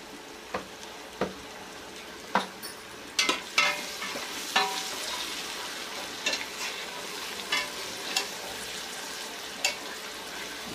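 Onion and green chili sizzle quietly in a pan for Coimbatore-style rice and dal, a soft steady frying hiss broken by occasional scrapes and clicks of a stirring spoon.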